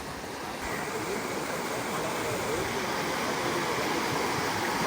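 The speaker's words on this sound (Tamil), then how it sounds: "கடலை நோக்கி போகுது தண்ணியெல்லாம்." Loud, steady rush of floodwater from heavy rain pouring toward the sea without a break, a dense roaring wash with no voices.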